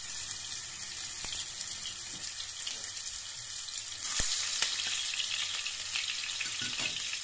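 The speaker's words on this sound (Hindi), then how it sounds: "पैन में ऑयल मैंने डाल दिया है, ऑयल गर्म हो रहा है।" Peshawari chapli kabab fries in hot oil in a pan, a faint, steady sizzle and crackle with occasional pops close by, and nobody is speaking.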